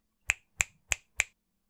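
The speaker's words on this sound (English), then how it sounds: "and fingers snap." Four crisp finger snaps in a steady, even rhythm, close and alone.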